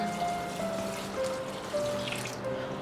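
Water is poured onto rice in a kitchen vessel to soak it, giving a steady close splashing flow that runs alone for a few seconds.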